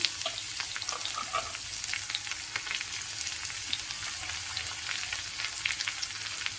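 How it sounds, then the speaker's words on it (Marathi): Chopped onion frying in a pan with roasted green chillies for baingan bharta, a continuous close crackling sizzle with light stirring, no voices. "कांदा पण आता व्यवस्थित परतून घेऊया"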